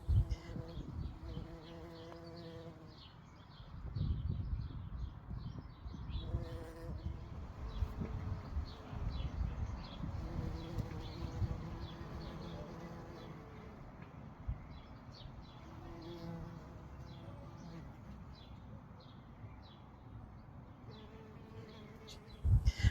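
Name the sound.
bees buzzing around garden flowers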